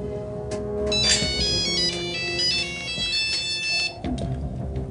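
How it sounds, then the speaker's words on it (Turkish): An incoming-call telephone ringtone plays as a bright, repeating electronic melody, loud and steady across the whole stretch with a low background hum underneath. "Bir hafta sonra Turgay Timur kendisiyle konuşan şahısları telefonla arar."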